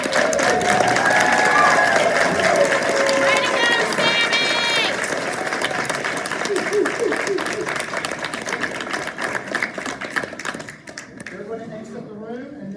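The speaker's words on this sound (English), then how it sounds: "Please stand and congratulate our graduates with a round of applause." Guests at an LPN to RN nursing pinning ceremony applaud the graduates with loud, dense clapping that gradually thins, with voices and some cheering mixed in toward the end.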